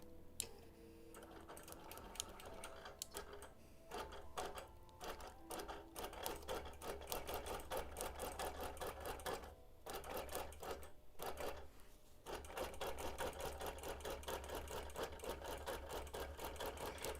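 Sewing machine running steadily during free motion quilting of a mod boxes pattern, a fast continuous needle clatter with brief pauses and restarts, close and fairly loud, with no talking.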